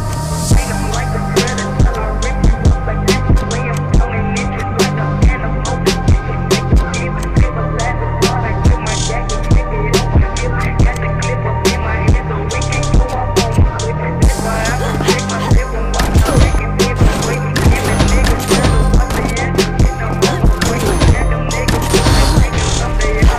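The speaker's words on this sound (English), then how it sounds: "the best shotgun equipment that kills with one shot" Gunfire from the video game Combat Master Online plays in dense, rapid bursts of sharp shotgun blasts over a constant bed of game music and effects, loud and close throughout.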